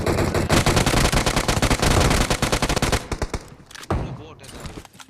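Automatic gunfire in the mobile battle-royale game PUBG Mobile, a dense, loud burst of rapid shots for about three seconds, then a few scattered single shots trailing off.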